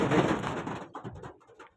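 Pigeons coo at close range in soft, throaty murmurs that fade into quieter, broken calls over a moment.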